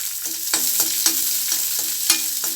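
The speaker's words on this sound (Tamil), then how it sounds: "சாம்பார் வெங்காயம் ஒரு மூணு நாலு வெங்காயத்தை வெட்டி வச்சுருக்கேன் அதையும் போட்டுக்கிடுவோம்" Small shallots fry in hot oil with curry leaves and mustard seeds: a steady close sizzle broken by about six rhythmic spatula scrapes across the pan, fairly loud and with no voices.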